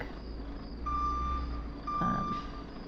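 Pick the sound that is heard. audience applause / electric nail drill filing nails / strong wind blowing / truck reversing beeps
truck reversing beeps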